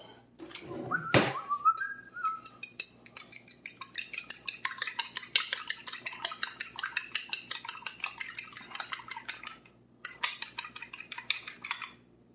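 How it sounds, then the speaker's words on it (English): An egg is beaten in a bowl for pinto bean fritters, a fast, steady run of close clinks and taps that continues for several seconds, preceded by a brief whistle-like tone and a pause near the end. "Now what I'm going to do is take a egg and beat it up."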